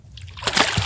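A caught saltwater fish released back into the sea makes a close, bright splash that builds and sloshes for a moment, with no talking over it.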